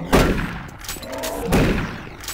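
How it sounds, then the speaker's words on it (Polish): Two close, heavy gunshots from the video game Doom 3 boom out about a second and a half apart, each with a sharp attack and a short rumbling decay. "Dwa strzały wystarczyły."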